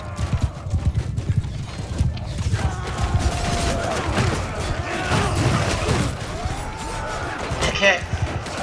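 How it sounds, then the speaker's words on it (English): Hoofbeats thud and clatter as a horse charges through a crowd in Mount and Blade II: Bannerlord, with battle clanks, a whinny and shouting voices mixed in, and someone talking over the steady, busy din. "I rode my horse into a bunch of people"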